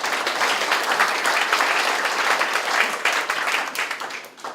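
Dense, loud applause from Democratic Party lawmakers at a 2017 workshop ahead of the regular National Assembly session, sustained throughout and fading out at the end.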